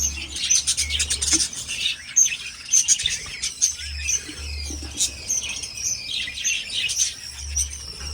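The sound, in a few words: budgies chirping while feeding chicks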